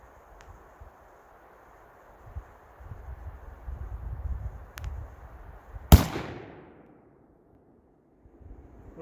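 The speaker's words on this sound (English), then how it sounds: "So let's shoot another one." A single loud shot from a Thompson Center Compass II compact .223/5.56 bolt-action rifle at an outdoor range, sharp and abrupt with a ringing decay, preceded by faint wind and rustling.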